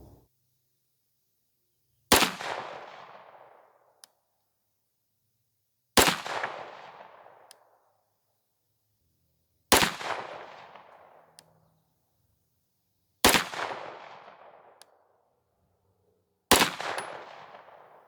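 Five loud, sharp 9mm pistol shots fired with Federal HST 124-grain +P ammunition, evenly spaced a few seconds apart outdoors, each crack followed by a long decaying echo and silence between.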